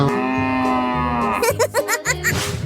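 A cow moos in a 3D animal slide video game. One long, loud, drawn-out moo opens, followed by quick giggly game sounds over a rhythmic backing beat.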